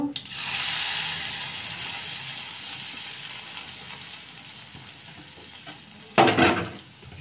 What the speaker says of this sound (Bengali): আমার তেলটা গরম হয়েছে, তেলের মধ্যে আমি গোটা জিরে দিয়ে দেব ফোড়ন হিসেবে।